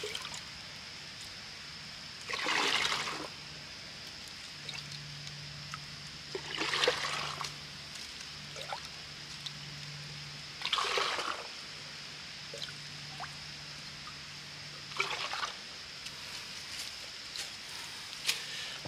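A bag is filled by scooping water from a stream, with four separate splashing scoops spaced several seconds apart over a quiet, steady background hiss.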